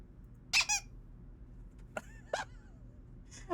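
Squeaking object in a Nancy Drew video game gives two quick high squeaks, then a couple more brief squeaky chirps a moment later, standing out over a quiet low background hum.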